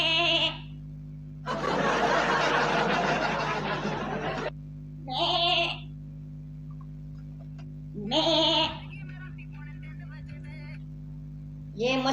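A person imitates a goat's bleating with several short nasal bleats spaced apart, with a long burst of loud noise between the first two, in a room with steady background hum.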